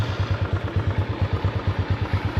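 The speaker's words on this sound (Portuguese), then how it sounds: "Mesmo jeito que essa moto pega aqui comigo aqui" A motorcycle fitted with a 3mm performance kit runs at a steady idle, its engine thumping in a fast, even pulse, close and fairly loud with no voices over it.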